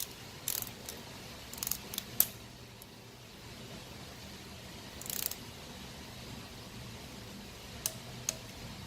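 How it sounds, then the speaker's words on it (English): Torque wrench working on EJ25 timing belt cover bolts: faint, scattered ratcheting clicks in short bursts near the start, around five seconds and near the end, over a quiet hum. "we want to torque these"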